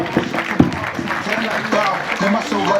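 A crowd at a college welcome ceremony claps in brief scattered applause, partly under a presenter's voice announcing the next singer.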